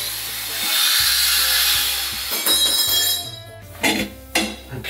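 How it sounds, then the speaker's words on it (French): A small hand saw rasps steadily through pipe in quick back-and-forth strokes during radiator installation, close by, with a few clunks and shuffling as it finishes. "Je vais le couper avec ma petite scie"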